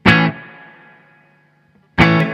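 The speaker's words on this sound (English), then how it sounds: "I'm using the amp's reverb" Two strummed electric guitar chords played through a Fender Supersonic amp with its built-in reverb, each ringing loud and slowly fading with a long tail before the next chord hits.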